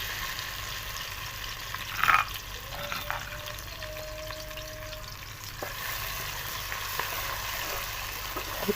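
Finely chopped onion frying in a pan for aloo matar, a steady low sizzle with a brief stirring scrape near the start and a faint tonal whine midway, no talking.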